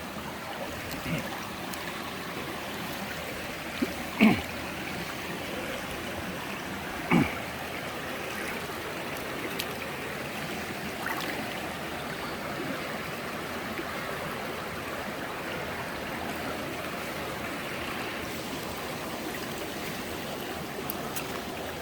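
Creek water flowing over slick, mossy rocks at a cabin, a steady broad rushing that stays even throughout, with a couple of faint knocks or splashes near by.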